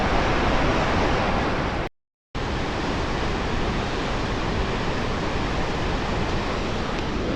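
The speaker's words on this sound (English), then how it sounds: "Tons of water coming down this river and coming down this waterfall" A waterfall and a swollen river in Namibia pour down heavily, giving a loud, continuous roar of rushing water that cuts out briefly near the two-second mark before resuming at full strength.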